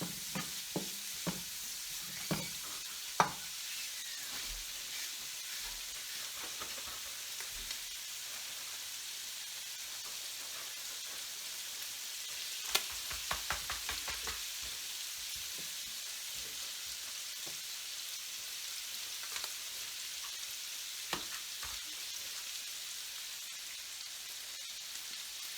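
Garlic sizzles quietly in a pan while it is stirred around, with a soft frying hiss and scattered clicks and scrapes of the utensil.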